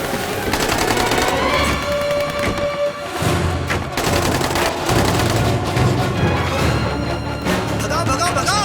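Rapid bursts of gunfire crackle over loud, dense action-movie sound with a musical score, constant and forceful throughout.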